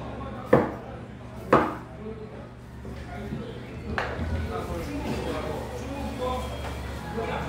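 A knife chops through a big batch of garlic for slicing, with two sharp loud cuts near the start and a softer one later, under background talk and room hum.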